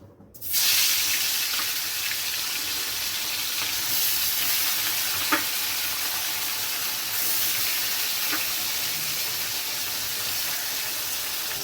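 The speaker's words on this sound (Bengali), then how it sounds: "তেলটা গরম হয়ে গেছে, আমি দিয়ে দিচ্ছি মাছ।" Amudi fish rubbed with salt and turmeric hitting hot oil, bursting into a loud, dense sizzle right after a brief quiet start, then holding a steady close frying hiss with no voices.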